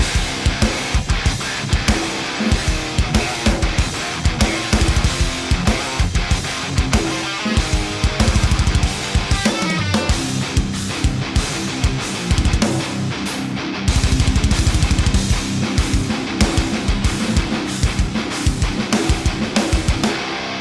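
Heavy distorted guitars with pounding drums, a loud full-band metal riff with punchy kick and snare hits driving steadily throughout.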